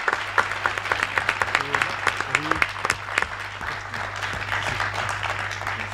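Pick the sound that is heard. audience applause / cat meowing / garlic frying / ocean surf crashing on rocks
audience applause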